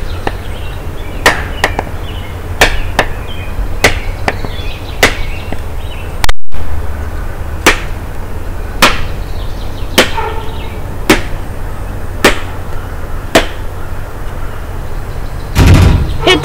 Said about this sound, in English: Hit it with the hammer.